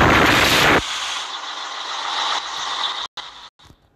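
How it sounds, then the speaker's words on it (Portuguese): A Scania 124G truck from 2019 is being started. A sharp hissing burst is followed by a steady whirring engine sound that cuts out abruptly twice near the end. "Liga caminhão."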